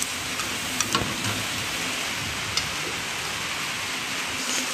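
An egg fries in a pan with a steady, close hiss and sizzle, broken by a few faint pops and clicks of a utensil, with no talking.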